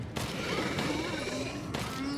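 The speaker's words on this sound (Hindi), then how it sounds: "मैं गोलियां बहुत ज़्यादा वेस्ट कर रहा हूँ" Gunfire in the video game Resident Evil Shadows of Rose, a couple of sharp shots standing out above dense in-game background noise, with a voice talking over the action.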